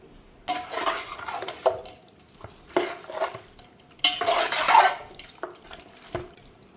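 Spices, garam masala, coriander powder and oil being stirred together in a metal pot for chicken biryani, with repeated scraping strokes and clinks of a spoon against the vessel, close and irregular.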